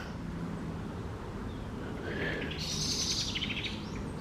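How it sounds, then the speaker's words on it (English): Birds calling at dawn in the Black Firs and Cranberry Bog Nature Reserve beside an algae-covered pond: a few clear chirps and hoot-like calls rise over a soft ambient hush, moderately close, with no talking. "the birds are starting to wake up."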